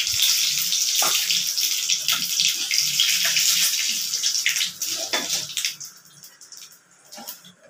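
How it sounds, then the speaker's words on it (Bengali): Bay leaf and cumin seeds hit hot oil with a loud, bright sizzling hiss that crackles and spits, then gradually dies down to a softer sputter with a few late pops. "তেলের মধ্যে আমি তেজপাতা দিয়ে দিলাম আর একটু সাদা জিরে ফোড়ন দিয়ে দিলাম।"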